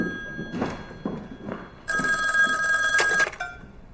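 An old-style telephone bell rings loudly in a sustained burst after a number is dialed, preceded by a few soft knocks and thuds in a quiet room.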